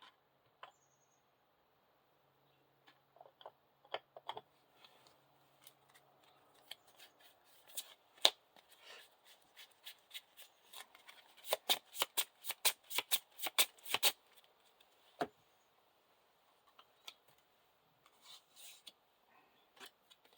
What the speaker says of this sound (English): Shuffle the encounter deck.